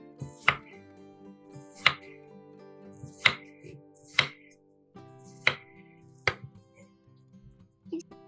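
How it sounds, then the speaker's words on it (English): A knife chops through watermelon flesh set rind side up on a cutting board, six crisp, evenly spaced cuts about a second apart, each a sharp thud, with no talking. "cut the whole thing into bite-sized pieces"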